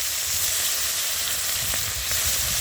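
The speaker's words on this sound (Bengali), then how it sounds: "মাছগুলো আমি তেলের উপর দিচ্ছি" Silver carp pieces frying in oil on a rooftop cooking fire, a steady, close hiss of sizzling with a couple of brief crackles and faint spatters throughout.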